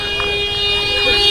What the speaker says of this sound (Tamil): ஹார்ன் அடிச்சு போகிறாரு.